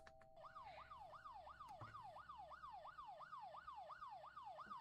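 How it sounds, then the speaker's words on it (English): A video game police siren wails in a steady, fast rising and falling cycle, faint and distant, repeating evenly without any talk over it. "I hear sirens. I hear police."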